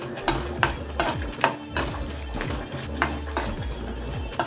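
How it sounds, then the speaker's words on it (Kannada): Almonds and cashews fry lightly in a pan for wheat payasa, with a soft sizzle under repeated scraping and stirring strokes of a spoon against the metal, close and irregular. "ಇದೇ ಥರ ಫ್ರೈ ಮಾಡ್ಕೊಳ್ಳೋಣ ಲೈಟಾಗಿ."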